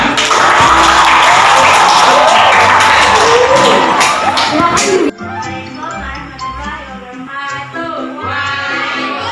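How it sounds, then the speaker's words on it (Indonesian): A classroom of students claps and cheers for a presenting group, loud and lively with shouts and whoops, then dropping abruptly to softer scattered clapping and chatter. "Beri tepuk tangan untuk kelompok 3."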